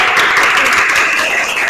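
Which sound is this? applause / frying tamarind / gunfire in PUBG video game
applause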